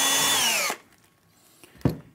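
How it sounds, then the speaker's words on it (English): A power drill bores a quick hole into a Cooke & Lewis 500 standard wall cabinet unit, giving a loud, steady whine for under a second that winds down. A single sharp knock follows after a short quiet pause. "drill a quick hole"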